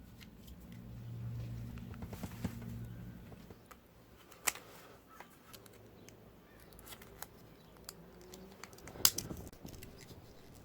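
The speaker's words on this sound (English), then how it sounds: "you gotta cut the corner of the wrapper to get the battery out" Scissors snip through the corner of a child-safety blister wrapper holding a Cadillac key fob battery, a few crisp close cuts and crinkles against a quiet background.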